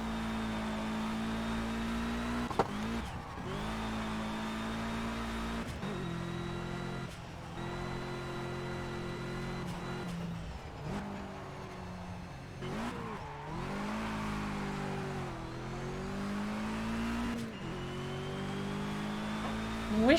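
Race car engine in the Project Cars video game, revving up and down through repeated gear shifts with rising and falling whine over about twenty seconds, steady and alone.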